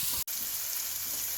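An onion frying in a pan for jeera aloo, a steady loud close sizzle with one momentary dropout, no voices.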